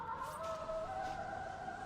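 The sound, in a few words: Song of the Siren ultimate ability effect, Dota 2 video game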